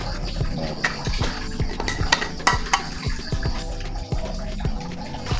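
A spoon stirs a luncheon meat and banana patty mixture with sugar and salt in a bowl, giving scraping and clinking in an irregular rhythm, close up with no talking.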